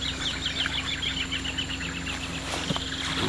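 Birds call along a river while the boat sits still with the engine off, a rapid run of chirping calls repeating near and clear over a low steady background hum.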